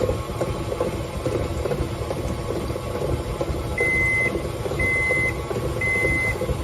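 Three evenly spaced electronic beeps from an oven signalling it has finished preheating sound over a steady background hum of machinery and faint household noise.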